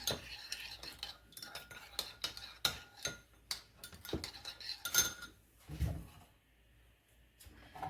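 A utensil scrapes and taps against a bowl as sauce is mixed by hand, in quick, uneven clinks up close and fairly quiet, then fades to near silence.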